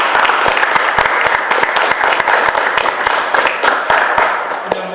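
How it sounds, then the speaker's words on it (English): A crowd claps for Mark at a Club Fishy gathering, a dense burst of close, rapid hand claps that runs steadily for the full stretch without fading. "If everybody just wants to give a round of applause for Mark"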